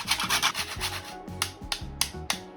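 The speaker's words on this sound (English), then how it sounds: "then grate in half a nutmeg." Half a nutmeg is grated into a pot of chicken soup, producing a run of quick, close, dry rasping strokes that then slow into a few separate scrapes, with no talking.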